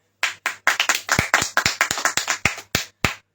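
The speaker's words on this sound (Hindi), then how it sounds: "बोलो हालेलुया। हालेलुया। तालियों के साथ।" A church congregation claps in a brisk, steady rhythm of about fifteen sharp hand claps, close and clear, with no talking over it.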